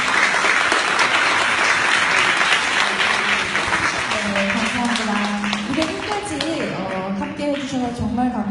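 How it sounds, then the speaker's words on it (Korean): Audience applause fills a small recital gathered around a painter's exhibition and piano concert, steady and dense with many hands clapping, while a host's voice talks over the later part. "다시 한 번만 박수 부탁드려도 될까요?"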